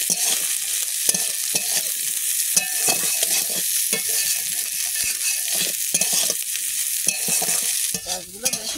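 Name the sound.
fish being stir-fried in a pan with onion, garlic, chili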